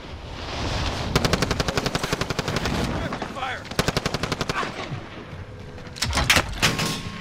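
Video game gunfire in rapid automatic bursts, several long strings of closely spaced shots with pauses between, loud and near over a busy background with faint voices.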